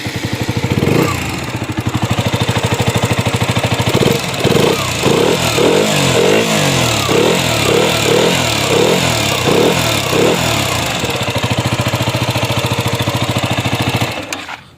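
A KTM Duke motorcycle fitted with an aftermarket silencer exhaust idles loudly nearby, then revs in a series of short, rhythmic throttle blips before settling back to a steady idle.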